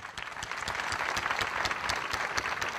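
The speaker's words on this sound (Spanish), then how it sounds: "A todos ellos, nuestro aplauso por la dedicación." Sustained crowd applause at a floral offering to the Virgen de las Viñas during a town fiesta, dense steady clapping from many hands, fairly loud and continuous throughout.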